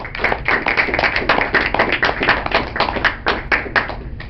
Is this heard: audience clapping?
yes